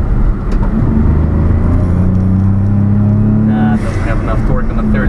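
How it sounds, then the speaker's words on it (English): A 1991 Daihatsu Atrai kei van's turbocharged three-cylinder engine pulls under load in third gear, a steady droning rumble with rising tone that stays loud and close throughout, while someone talks over it. "So this one's 3-cylinder turbo, so it has pretty cool noise when under load."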